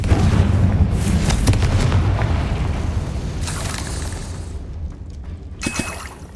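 A Confringo fire spell detonates in Hogwarts Legacy, a loud booming blast that rumbles and fades over several seconds, with a few later crackling bursts.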